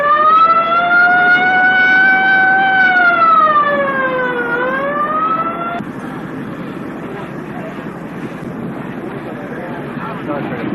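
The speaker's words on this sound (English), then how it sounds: "put in the ambulance, now on the way to the hospital" An ambulance siren wails loud and close at the 1970 NHRA US Nationals drag race, its rising and falling tone lasting about six seconds before giving way to broad crowd and outdoor noise.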